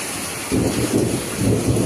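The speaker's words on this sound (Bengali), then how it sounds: "খুব আওয়াজ বৃষ্টির খুব আওয়াজ হচ্ছিল" A loud, dense downpour hisses continuously with deep rumbling swells beneath it, like heavy rain and thunder close by.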